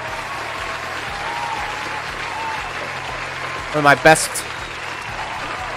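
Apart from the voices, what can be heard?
applause for a stream guest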